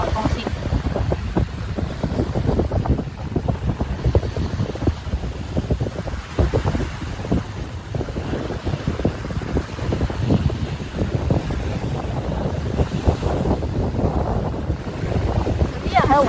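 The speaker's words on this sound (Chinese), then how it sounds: "我就喺度吹一下海風先" Sea breeze on Cheung Chau island buffets the microphone in constant gusty rumbles and flutters, with a watery, boat-like background wash underneath.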